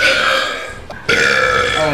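A loud, drawn-out burp after drinking soda, rumbling for most of the two seconds with a short break partway through before it resumes just as strongly.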